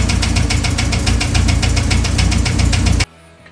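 An abandoned Citroën GSA's engine idles with a loud, rapid, regular knocking clatter close up, then cuts off abruptly near the end.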